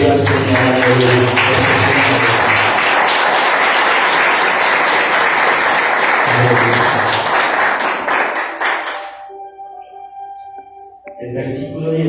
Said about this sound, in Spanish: Déjale un aplauso al Señor.